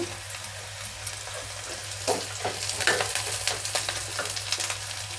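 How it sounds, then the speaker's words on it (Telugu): Ginger, garlic, onions and green chillies frying for palak paneer, a close, steady sizzle broken by repeated scraping stirs of a spatula. "అల్లం వెల్లుల్లి ఉల్లిపాయలు పచ్చిమిరపకాయలు చూడండి బాగా వేగిపోయినాయి"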